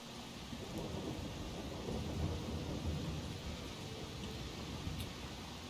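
Steady, heavy rain pours in a video game, a dense close hiss with low rumbling thunder rolling underneath throughout, continuous and loud with no pauses.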